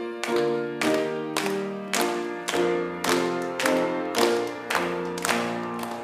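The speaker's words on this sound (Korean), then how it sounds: "박수 치며 합시다." A church congregation at Sunday worship claps in time with a hymn, sharp regular beats about twice per second over sustained organ or keyboard chords.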